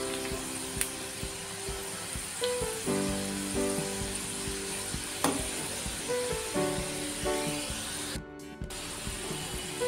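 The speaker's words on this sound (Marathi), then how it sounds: "तर हे चांगले तळून घ्यायचे." Fried modak sizzle steadily in hot oil, a close continuous crackling fry with occasional stirring and scraping sounds over it throughout.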